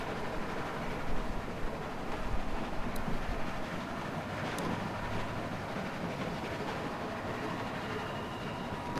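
A train running in The Walking Dead video game, a steady rumbling roll with faint clickety-clack throughout, heard on its own at moderate loudness.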